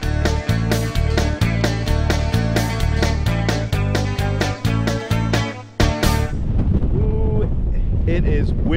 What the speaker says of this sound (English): It is windy as windy can be.